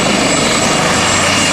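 A white helicopter carrying a head of state arriving in a southern capital, its rotor and engine roar loud, close and constant with no pauses.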